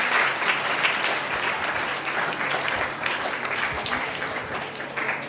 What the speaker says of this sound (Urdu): ایک بار خود کے لیے اور اپنے ٹیچرس کے لیے تالیاں بجا دیجیے